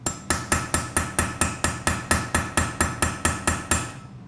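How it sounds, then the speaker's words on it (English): A hammer lightly taps a chisel on metal while forging a rune necklace, a close, even run of about fifteen bright ringing strikes at a steady quick rhythm, with no talk. "one way to make it more even is to lightly tap the hammer"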